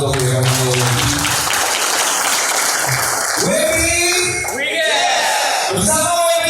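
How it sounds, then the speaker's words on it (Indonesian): Audience applause at a business seminar in a hotel in Banjarmasin, a steady, loud wash of clapping that fills the whole stretch, with speech and voices heard through and over it. "Sekali boleh tepuk tangan untuk WPayment."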